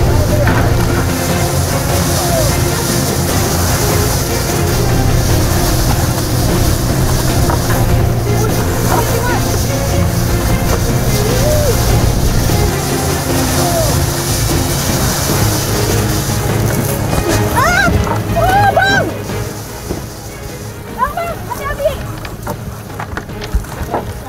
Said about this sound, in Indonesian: Setelah itu, kapal pun dipacu kencang dan jaring mulai diulur.